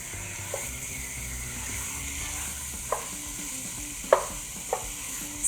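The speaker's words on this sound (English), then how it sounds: "we'll add our raw chicken that we diced up. So that's perfect. We want to hear that sizzle." Steady hiss of diced raw chicken frying in a hot pot, with a few soft clinks and scrapes of stirring over the constant sizzle.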